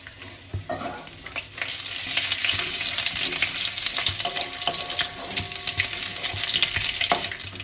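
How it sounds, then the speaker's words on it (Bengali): Panch phoron and two bay leaves dropped into hot oil, a sharp burst of crackling followed by steady close sizzling and spattering that carries on throughout, with a few soft knocks. "তেলটা গরম হলে আমি সবার প্রথমে পাঁচফোড়ন দেব আমি হাফ চামচ পাঁচফোড়ন দিয়ে দিলাম আর সাথে দুটো তেজপাতা"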